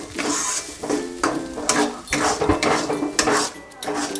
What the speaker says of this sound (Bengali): দিয়ে এটাকে ভালো করে নাড়বো।